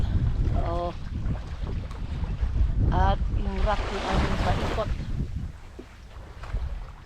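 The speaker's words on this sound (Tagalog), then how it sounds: "Nandito sa tabing dagat." Strong wind buffets the microphone at a seashore, a steady rushing roar with surf beneath it, while people talk over it close to the mic.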